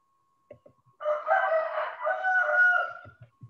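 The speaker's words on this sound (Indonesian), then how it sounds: "Alhamdulillah ada yang berkokok juga ikut kuliah." A rooster crows once, loud and close, in a long drawn-out call of about two seconds heard during an online physics class, with faint brief sounds just before and after.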